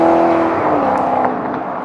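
A loud Maserati GranTurismo S 4.7-litre 434 hp V8 engine drones up close, its pitch sliding slightly lower as it runs.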